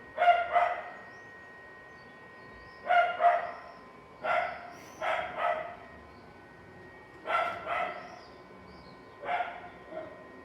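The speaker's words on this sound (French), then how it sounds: "Ça fait une demi-heure qu'il aboie." A dog barking repeatedly along a rural walking trail, single and paired barks in irregular bursts a second or two apart, fairly close and clear over a quiet background.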